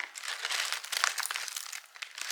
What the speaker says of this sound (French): je vais venir prendre ma paire de ciseaux et couper des petits morceaux